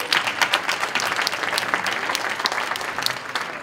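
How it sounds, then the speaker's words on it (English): A meeting audience at a regional healthcare gathering breaks into steady, dense applause of many hands clapping at once, sustained and fairly close throughout with no pause. "Can we give him a round of applause?"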